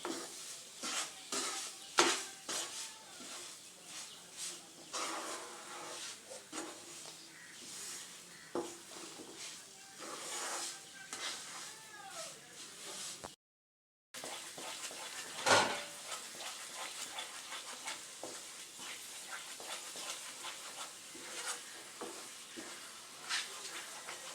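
A coconut, milk and sugar mixture for coconut burfi is stirred in a pan, giving soft scraping and faint sizzling with occasional utensil taps, quiet and continuous with a brief gap partway through.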